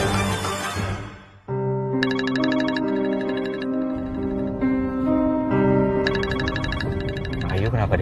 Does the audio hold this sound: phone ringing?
yes